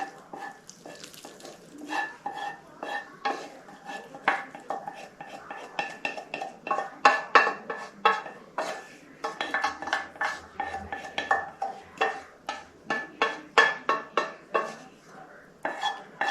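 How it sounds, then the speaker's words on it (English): Sauteed onions, celery and butter scraped from a pan into a bowl of bread for Thanksgiving cornbread dressing, a run of close, quick clinks and scrapes of a utensil against cookware, steady and rhythmic throughout. "I'm going to bring my sauteed onions and celery and butter and add to this bowl of the bread."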